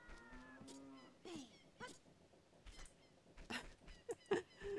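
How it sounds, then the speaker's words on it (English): A cow moos inside a jail in Zelda Ocarina of Time, its long lowing call coming first, followed by scattered game sounds and small clatters. "I hear the cow in jail."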